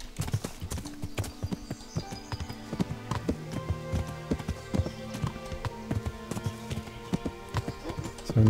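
Horse hooves gallop across terrain in the medieval video game Kingdom Come: Deliverance. A fast, loud, rhythmic clip-clop of hoofbeats runs steadily throughout, close and crisp, with little talk.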